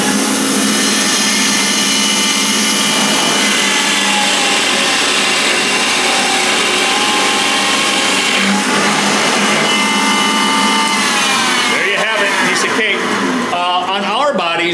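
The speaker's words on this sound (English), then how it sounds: "This is a 7/8 inch diameter carbide tipped drill bit." A 7/8 inch carbide-tipped drill bit on a CNC machine cuts hard ash wood for a Telecaster body, making a loud continuous whining roar with shifting pitch that grows rougher toward the end, close by.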